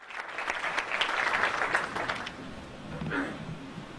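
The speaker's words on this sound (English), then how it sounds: "He walks away to a room full of applause." A roomful of people clap and cheer steadily at a Sony E3 press conference, a dense wash of applause that swells and then eases off.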